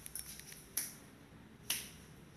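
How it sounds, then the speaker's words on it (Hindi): Two sharp, crisp finger snaps about a second apart in a quiet room, close and distinct, with no voices. "अब मैं चुटकी जितनी दफ़ा बजाऊंगा उतनी दफ़ा आपने इसको दोबारा सोचना है।"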